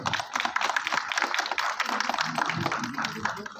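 Audience claps at a film premiere, a dense, steady patter of many hands that sounds close and fairly loud, with crowd murmur mixed in.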